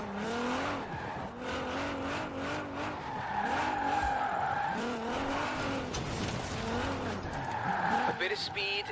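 A car drifts in Forza Horizon 4 with the e-brake feathered and the accelerator held, its engine revving in repeated rising and falling sweeps under a steady tire squeal, with a voice talking over it throughout.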